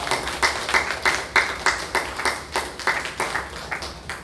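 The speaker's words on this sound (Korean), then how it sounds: "우리 하나님께 영광의 박수를 올려드리겠습니다" A church congregation at a Sunday service claps together in a steady, rhythmic beat, about three claps per second, sustained throughout with no voices on top.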